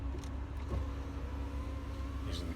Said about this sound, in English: It's a white Dodge Ram 1500, I think.